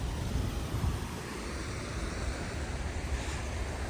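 Rushing water pours steadily at the Mercedes waterfall, a loud, continuous broadband roar heard up close with a touch of wind noise and no talking.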